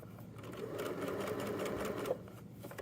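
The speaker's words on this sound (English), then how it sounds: "I'm just going to make sure it lays open as I sew here." Sewing machine stitching the leg band seam of a pair of joggers, a steady close-up mechanical whir running continuously with no pauses.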